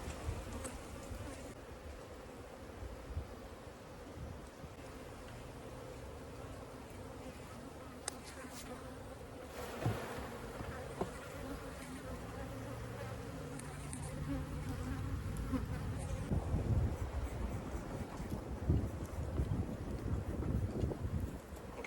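Honey bees from the owner's own hive buzz steadily during a comb cut-out, a dense close swarm drone that swells louder toward the end with wind rumble and handling knocks underneath.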